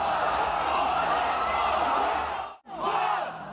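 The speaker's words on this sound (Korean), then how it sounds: "장재호 선수의 닉네임을 외치는 중국 관중들인데요" A large Chinese crowd chants the nickname of Korean gamer Jang Jae-ho in an arena, a loud, massed roar sustained for a couple of seconds, a brief break, then another swell of chanting.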